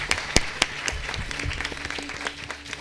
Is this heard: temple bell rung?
no